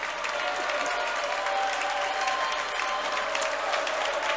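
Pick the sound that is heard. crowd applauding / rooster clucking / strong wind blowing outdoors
crowd applauding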